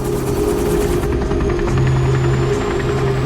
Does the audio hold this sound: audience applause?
no